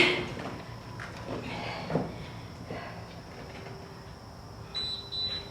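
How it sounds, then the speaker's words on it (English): A workout interval timer beeps near the end, marking a 10-second break in a HIIT session: a couple of short, high electronic tones over quiet room noise and faint movement. "There's the timer for the 10-second break"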